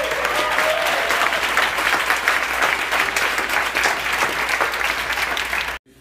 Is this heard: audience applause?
yes